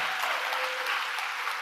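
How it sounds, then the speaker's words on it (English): An audience at the World Food Forum closing ceremony applauds, a steady, moderately loud patter of many hands clapping throughout the short stretch, with no speech over it. "Let's give them a round of applause."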